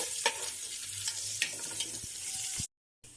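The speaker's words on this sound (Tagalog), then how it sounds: "Mag-gisa na tayo. Unahin natin ang bawang. Sunod na ang sibuyas at luya." Garlic, then onion and ginger, hiss and crackle in hot oil while a spatula scrapes and stirs the pan. The close, bright sizzle runs for under three seconds before cutting to silence.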